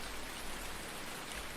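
Steady rain falls in the video game Farming Simulator 19, making a soft, even hiss that continues without a break.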